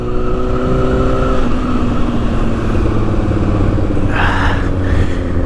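A Porsche car revving loudly and passing close by, a steady heavy engine roar with a strong low rumble and a brief rising whoosh near the end, over constant road and wind noise.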